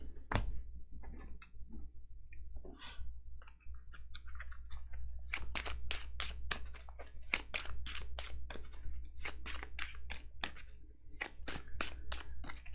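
Game cards for the Earthborne Rangers tabletop campaign being shuffled, a run of sharp riffling snaps that start sparse and build into a dense, rapid burst of close clicks over a low steady hum.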